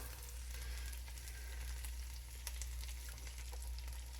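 Eggs sizzling and frying in a hot pan with chorizo, a steady crackling hiss throughout with faint stirring ticks, no voices.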